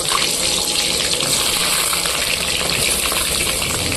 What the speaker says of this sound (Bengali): তেল গরম হয়ে গেছে, পটলগুলো দিয়ে দেব।